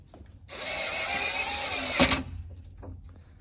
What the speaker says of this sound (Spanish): se le hace un pequeño hoyo con una broca, porque si no la madera se parte